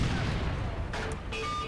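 Tank guns fire shells in World of Tanks, heard as a dense continuous rumble of battle noise with two short, brighter bursts near the end, all under steady game ambience.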